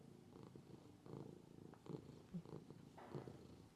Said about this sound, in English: purring going on. I don't know if you could hear that.